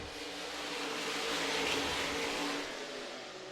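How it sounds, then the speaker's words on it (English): Modified race cars roar around the back straightaway of the Franklin County, Virginia speedway, a loud sustained engine drone swelling and fading as the pack passes. "A much better start as they roar to the back straightaway."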